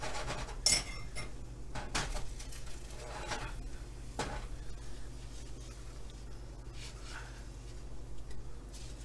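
Salmon omelette eggs pushed around an oiled pan with a utensil, giving light scraping and occasional metallic clinks over a steady low kitchen hum, close and moderately quiet.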